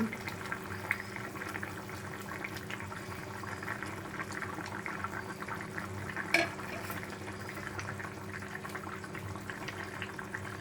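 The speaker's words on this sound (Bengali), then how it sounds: "ঝোলটা ফুটে উঠেছে" Thin fish curry broth with ridge gourd bubbling in a pot, a faint continuous simmering burble with one brief knock partway through.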